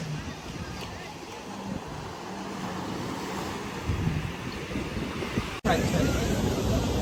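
Loud, continuous roar of surf breaking on a shore, mixed with gusty wind buffeting the microphone.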